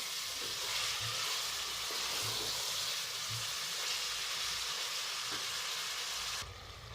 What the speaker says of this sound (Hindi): अब मज़ीद हम इसे 2-3 मिनट के लिए और भूनेंगे